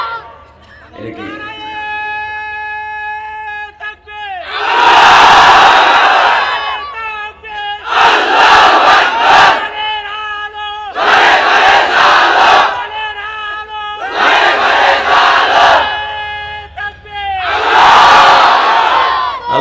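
A large crowd at an Islamic religious gathering shouts takbir (Allahu Akbar) in unison: five loud, roaring bursts of massed voices, each a couple of seconds long, separated by brief pauses with a single voice between.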